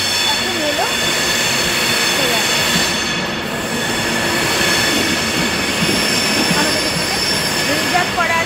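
An Avanti West Coast train arrives at a station in Scotland, with a loud, steady rumble and high squealing wheels running throughout, and a voice speaking faintly beneath it.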